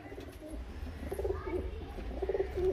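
Soft, low cooing from a pair of Teddy pigeons repeats a few times against a quiet background hum, fairly close and gentle.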